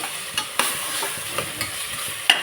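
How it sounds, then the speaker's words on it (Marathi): Tomatoes with salt being sautéed in a pan for a chicken biryani, a soft steady sizzle with occasional sharp spoon scrapes and taps against the pan, close and fairly quiet, with no voices. "नमक टाकून मी आता परतून घेते"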